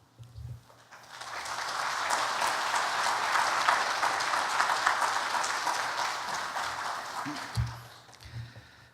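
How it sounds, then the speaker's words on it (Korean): A church congregation breaks into welcoming applause as a visiting missionary pastor comes forward. The applause swells, holds steady for several seconds and then fades, with brief voices before and after. "나오실 때 우리 환영의 박수 부탁합니다."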